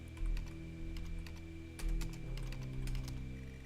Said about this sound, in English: you have to wait for the text before you start typing